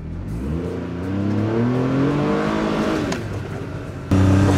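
An enclosed-cab UTV in sport mode accelerates hard. The engine note climbs steadily and then shifts, and a loud surge of revving comes near the end. The engine is close and runs alone, with no talk.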